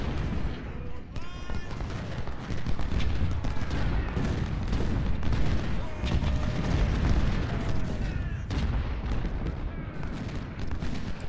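Cannon and musket fire crackle and boom without pause in the Ultimate General: Civil War battle at Corinth, a dense, continuous volley of gunfire and artillery.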